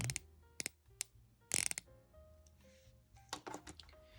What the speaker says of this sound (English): it's a little bit hard to turn. But it's very satisfying bezel action.